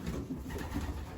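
Pigeons cooing softly inside a loft, low murmuring coos over a steady background hum, fairly faint and continuous without any talking.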